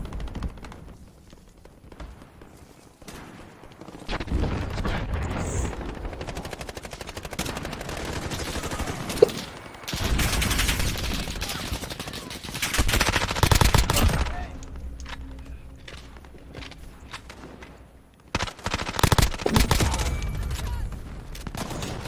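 Rapid bursts of automatic gunfire in the video game Warzone, sustained and fairly loud across long stretches with brief pauses between volleys.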